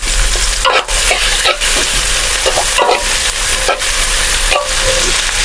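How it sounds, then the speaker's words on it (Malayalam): Mutton with chopped ginger and curry leaves being stirred in a hot pan, a steady loud sizzle of frying with repeated scraping strokes of the spoon throughout. "കുറച്ച് ഇഞ്ചി മുറിച്ചിട്ടത് ഇതാ ഇതും ചേർത്തിട്ടുണ്ട് നല്ലപോലെ ഇളക്കിട്ട് കൊടുക്കണം"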